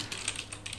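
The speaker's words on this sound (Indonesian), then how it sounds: "Tinggal kita ketik cp" A Linux command is typed on a computer keyboard, a short run of light, rapid key taps heard close and alone.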